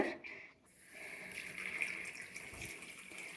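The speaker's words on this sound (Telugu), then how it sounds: "దీనికి ఇలా పెట్టి జస్ట్ కొంచెం ఇలా వాటర్ ఇప్పుతానన్నమాట" Water trickles and splashes faintly into a potted indoor plant at home, a soft continuous pour lasting a few seconds with no talk over it.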